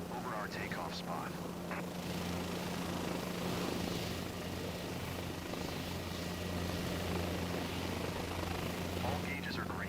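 A helicopter hovers over its takeoff spot in Microsoft Flight Simulator 2024, a steady rotor drone with a low thrum and engine whine that holds evenly the whole time, with faint voice fragments on top.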